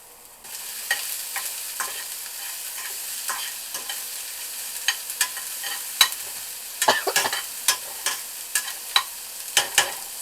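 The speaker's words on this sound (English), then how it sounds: "So now I'm going to go ahead and add my garlic and chilies" Garlic and chilies sizzle with toasted onions in a pan, a soft steady frying hiss punctuated by frequent crisp spatula scrapes and taps that grow busier toward the end.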